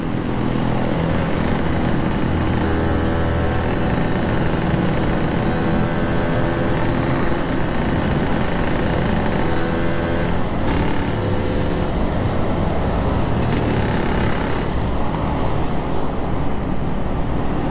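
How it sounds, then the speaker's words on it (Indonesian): Dense night traffic of motorcycles and cars in Makassar fills the scene with a constant loud engine roar, heard from a moving Yamaha motorcycle with wind rush and passing vehicles, no voices. "Nah kendaraan itu padat banget boy"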